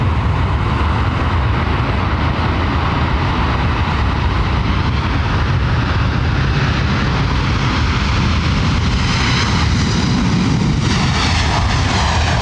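Aircraft engines roar at London Heathrow Airport, a loud, continuous jet rumble that swells and holds across the whole stretch, with a rising whine near the end and no talking.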